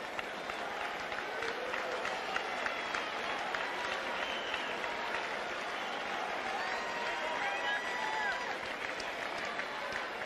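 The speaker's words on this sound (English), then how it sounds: "Crowd still trying to rouse" A US Open tennis crowd claps steadily for about ten seconds, a dense, even wash of applause from a large stadium audience with faint voices mixed in.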